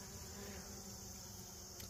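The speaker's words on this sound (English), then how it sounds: "You can hear there's like all the bees in the garden, they're at this plant." Bees hum in a dense, steady buzz close by around a garden plant, many insects droning together without pause.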